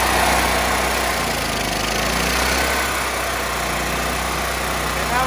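A gasifier-fuelled engine running steadily just after startup, its air-fuel mixture set to about half: a loud, continuous mechanical drone with a strong low hum and no talk over it.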